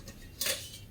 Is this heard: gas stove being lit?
yes